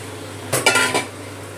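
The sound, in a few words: utensil stirring fish roe fritter curry in pot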